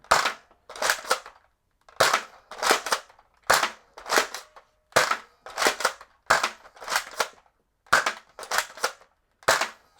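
A Zuru X-Shot Turbo Fire dart blaster fires in quick pairs of sharp, snappy shots, about a dozen evenly spaced pops, close-up and clear against silence.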